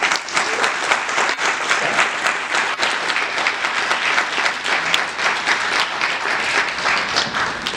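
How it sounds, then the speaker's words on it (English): A sustained round of dense audience applause at a medical school talk, steady and fairly loud throughout with no pauses, many hands clapping together in a hall. "Let's give her a round of applause."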